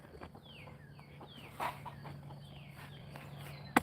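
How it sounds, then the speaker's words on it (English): Young chickens on a farm give a few soft, scattered clucks and chirps at a moderate distance, with faint rustling and one sharp knock near the end. "put the chickens out here, the young chickens"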